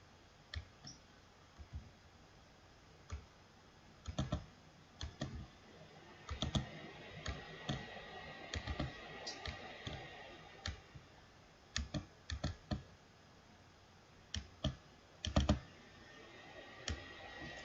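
Computer mouse and keyboard clicks while building a slide with WordArt for an animated teaching presentation, sharp isolated taps in irregular bursts and pairs, close and fairly quiet, with no talking.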